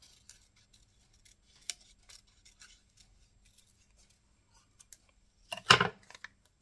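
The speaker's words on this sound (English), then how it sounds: "Do I want to very carefully cut that out?" Scissors cutting paper for a collage, a faint run of small snips and rustles leading to a louder, sharper cluster of cuts near the end, no voices.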